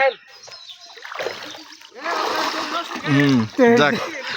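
Water splashes and sloshes as someone dips into a pond on a hot day, with bursts of splashing close by alongside voices talking.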